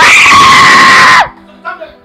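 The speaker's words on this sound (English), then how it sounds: "This is the part where we scream." Loud group screaming fills the first second and more of a staged robbery comedy skit, a sustained shrill yell that cuts off abruptly, followed by quieter scattered voices.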